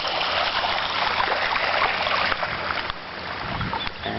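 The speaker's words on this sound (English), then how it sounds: "You can see all this water that's coming off the road." Floodwater from the 2011 Lockyer Valley floods running off Postman's Ridge Road, a steady rushing, trickling flow heard close by with occasional splashes, continuous for several seconds.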